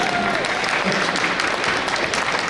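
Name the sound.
audience applause at a festival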